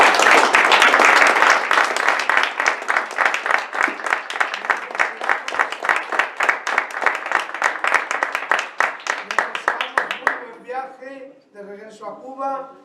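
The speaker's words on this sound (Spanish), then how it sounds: "vamos a darle un calurosísimo aplauso" Warm audience applause at a book presentation, dense at first, then settling into rhythmic clapping for about ten seconds, after which a voice begins speaking as the clapping stops.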